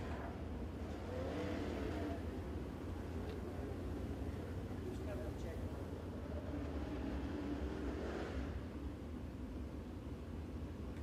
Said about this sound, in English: On the track now is going to be the 8 of David Payne from Murphy, North Carolina, in the Capital chassis.